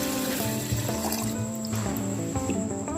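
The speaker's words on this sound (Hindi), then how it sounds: "फिर हम इसमें पानी डालेंगे।" Water is poured into a mint margarita mix already holding sugar, giving a continuous liquid filling and trickling sound, close and fairly loud, with a ringing tonal quality as the level rises.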